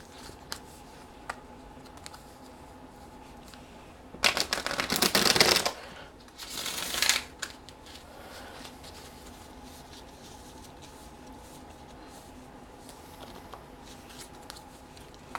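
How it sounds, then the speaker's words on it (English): Tarot cards are shuffled by hand in two short, crisp riffling bursts, the first longer and louder, set against a quiet room with occasional small taps. "And while I'm shuffling, I'll see if anything else pops out to me."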